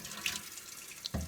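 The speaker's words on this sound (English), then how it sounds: "This is water. You get it from a tap" Water runs steadily from a tap in a soft, close hiss, ending with a sudden low splash or thump near the end, with no talking.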